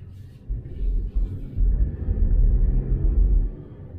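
Volkswagen one-liter three-cylinder engine with a robotized gearbox droning inside the car while driving, a low rumble that swells midway and holds steady, with no voices.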